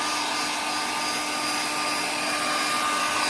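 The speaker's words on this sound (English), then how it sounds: "my daughter and my husband is blow drying it for me" A hair dryer blows on hair as a loud, constant, whooshing motor roar that stays steady for the whole stretch, with no voices over it.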